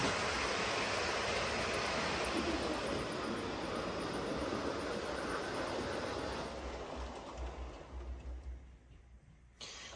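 A model train with a newly fitted DCC decoder chip runs a little fast, giving a steady broadband whirring rumble for about six seconds before it drops off and quiets, with no talking.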